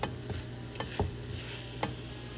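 A spoon stirs onions with coarsely crushed ginger and garlic in a clay pot over medium heat, giving a few scraping knocks over a steady low sizzle, with no talking.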